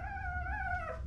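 A single soft, high-pitched Doodle puppy whine or howl wavers for about a second, close and faint.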